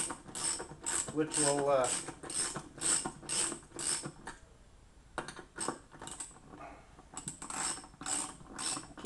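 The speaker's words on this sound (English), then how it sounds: "tighten down a couple of them. Get them down snug fit, or at least until the bolt starts to turn on you" A ratchet wrench tightening bolts on aircraft main gear wheel halves, giving rapid rhythmic clicking in repeated bursts, close and clear, with a brief pause partway through and a few spoken words.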